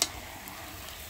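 Tomatoes go into mutton frying in a pan over a wood-fired clay stove, giving a soft steady sizzle after a brief sharp start.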